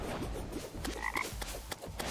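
Nuclear toad enemy croaking in Terraria's Calamity mod, a few short, rough croaks over a low game soundtrack, fairly faint.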